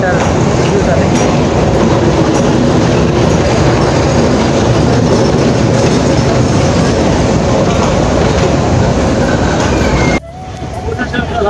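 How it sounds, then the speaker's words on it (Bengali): A train arriving and running along the rails, loud and close, with a steady rumble and clattering wheels that carry on throughout before dropping off sharply near the end. "এই যে দেখতে পাচ্ছেন এদিকে আসতেছে ট্রেনটি।"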